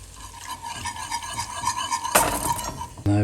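Cold milk being stirred into a paste in a pan makes soft, continuous scraping and swishing, moderately quiet, with a sharper clatter near the end. No one speaks.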